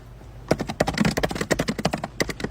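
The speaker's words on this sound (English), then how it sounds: "Oh god damn, she's typing." Rapid, uneven keyboard typing close by, a dense run of sharp clicks and taps with no voices.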